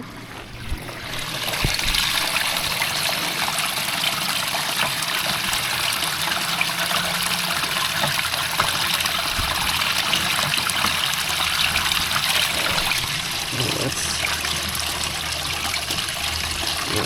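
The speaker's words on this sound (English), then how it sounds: "It'll leak a little bit there until the gasket gets moisturized a little bit and soaks up water." Water runs steadily from a valve whose gasket is still dry and leaking, a continuous close trickle and splash that lasts throughout with no talk.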